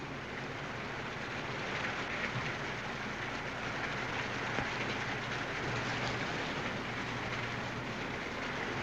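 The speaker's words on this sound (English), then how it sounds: "The rain's stopping." Steady rain hisses evenly across the whole stretch, a continuous broadband wash with a faint low rumble underneath and no voices.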